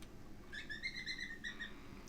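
A bird in the video game Deadly Premonition chirps a quick series of bright, high tweets over a low, steady background hum, fairly quiet and lasting about a second.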